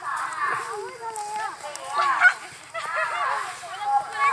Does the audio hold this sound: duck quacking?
yes